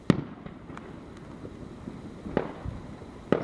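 Fireworks pop and crack at a distance, three or four sharper bangs standing out from a scattered run of fainter bursts over a low background rumble.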